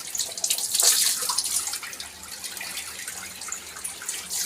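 Tap water runs steadily while a child washes their face, a close, splashy hiss that swells briefly and then settles into a continuous flow.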